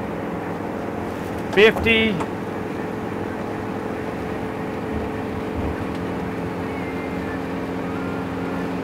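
A 1998 National Dolphin 5360 motorhome accelerates up a highway on-ramp, its steady engine and road drone filling the cabin, with someone speaking briefly early on.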